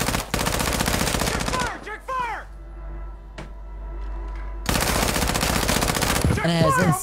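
Rapid automatic gunfire from an ISO gun build in a shooter video game, heard as two long dense bursts separated by a quieter gap with a single sharp shot. Voices talk briefly around the firing.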